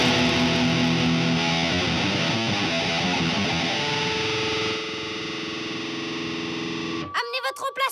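Heavily distorted electric guitar riff with chorus-like effects, loud and sustained for about seven seconds before a few short choppy notes close it out, no talk heard.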